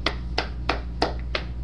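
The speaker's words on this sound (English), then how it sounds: "we clap for that" Five single hand claps ring out at an even, slow pace, sharp and moderately close, each a crisp separate slap with nothing else over them.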